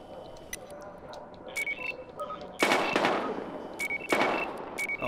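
Bursts of gunfire in Battlefield Hardline crack out in two heavy volleys amid scattered electronic beeps and clicks, fairly quiet overall.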